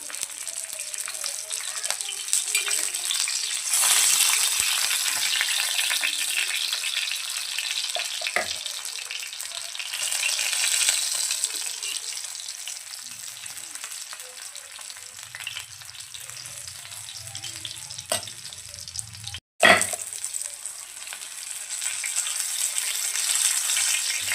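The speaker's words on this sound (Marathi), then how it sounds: "बारीक गॅसवर आपल्याला हे द्यायची, म्हणजे ती आतपर्यंत फ्राय होईल." Bangda mackerel fish frying in oil in a pan over a low gas flame, a steady close hiss and crackle running throughout with a brief clatter near the end.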